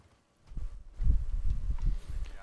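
Horse hooves galloping in the video game Elden Ring, a quick rhythmic run of muffled thudding clip-clops lasting a couple of seconds, fairly close and moderately loud with no speech.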